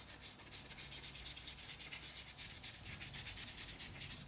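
Steady rhythmic scrubbing of a paintbrush working paint onto canvas in a studio, quiet and close, repeating strokes without any talk.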